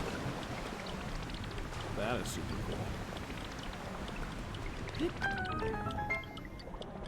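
A waterfall in The Legend of Zelda: Tears of the Kingdom video game roars as a steady broad rushing wash, with someone speaking briefly over it and a few small chimes near the end.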